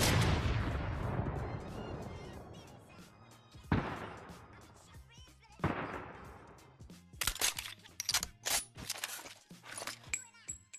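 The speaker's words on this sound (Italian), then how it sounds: "Questo qua è il rumore che fa il bolt sia per sparo che per ricarica" Bolt-action sniper rifle in Fortnite Battle Royale fires with a sharp boom that rings out and fades, then more shots follow, trailed by a rapid run of clicking, clattering reload bursts.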